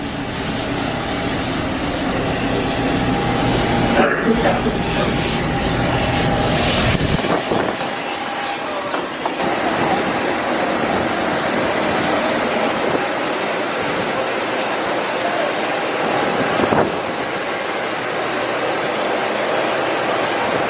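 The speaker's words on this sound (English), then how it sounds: "Today I'm flying possibly the smallest commercial plane, transatlantic, the A318 baby bus, transatlantic to New York." Jet engines of a British Airways Airbus A318 heard from inside the cabin, a loud continuous roar with a steady whine that shifts in tone partway through.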